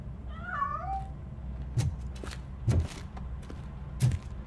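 A cat meows once, a clear rising and falling call, in the PS5 game RoboCop: Rogue City, followed by several dull thumps and footsteps.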